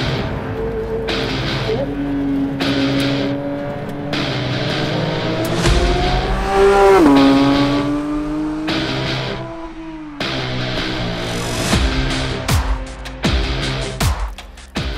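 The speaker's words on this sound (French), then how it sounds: "l'essai sur piste de la toute nouvelle Porsche 911 GT3" A 2022 Porsche 911 GT3 laps the Circuit Mont-Tremblant race track, its engine loud and close with rising and falling revs through repeated gear changes over about fifteen seconds.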